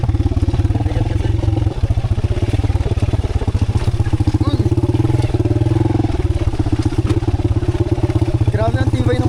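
A motorcycle engine drones steadily and loudly throughout as it carries hikers with heavy bags on a mountain road, its rapid pulsing beat continuous under passengers talking.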